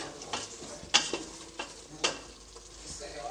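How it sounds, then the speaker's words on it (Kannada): Masala spice paste frying in oil in a pan for green pulao, with soft sizzling under repeated scraping and clinking stirs of a utensil, close and moderately loud. "ಈಗ ಮಸಾಲೆ ಎಣ್ಣೆಲಿ ಸ್ವಲ್ಪ ಚೆನ್ನಾಗಿ ಫ್ರೈ ಮಾಡಬೇಕು"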